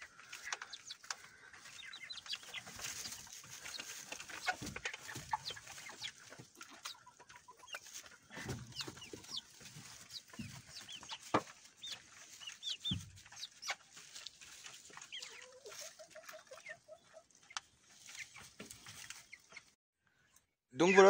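A small flock of ornamental hens, Brahmas with a few Silkies and a Sebright, cluck and chirp softly in scattered, irregular calls, fairly quiet and a little distant, with a voice heard now and then.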